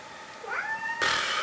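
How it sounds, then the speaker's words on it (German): A cat meows once with a rising, drawn-out call, close and clear, followed by a brief burst of broadband noise at the end. "Das war die Katze."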